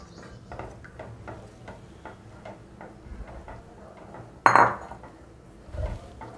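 Almond paste being stirred into a dessert mixture in a pan with a spoon: steady, rhythmic light taps and scrapes repeating about three times a second, with one sharper metallic clank near the end and no voices.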